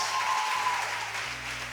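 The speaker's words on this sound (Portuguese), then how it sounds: "Palmas pra eles mais uma vez" Audience applause on a Portuguese-language talk show, a broad steady patter of clapping with a faint tone and low hum underneath.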